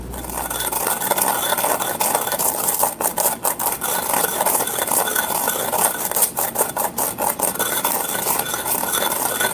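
Spices for homemade harissa toast in a dry pan, with a spoon or spatula repeatedly scraping and stirring the metal surface in a close, busy, rhythmic rasp that runs throughout.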